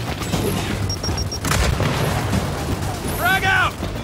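A frag grenade goes off in Gears 5 as a deep booming blast amid game sound effects, followed by a rising electronic whine near the end.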